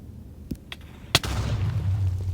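A bed exploding in the Nether in Minecraft, heard as one sharp, loud blast after a couple of faint clicks, followed by a low rumbling tail that lingers to the end.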